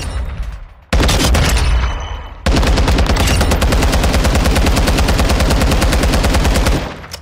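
In Call of Duty Modern Warfare II, an MK17 SCAR-H rifle fires a short burst and then a long sustained stream of rapid, evenly spaced shots, loud and close, before the firing tails off.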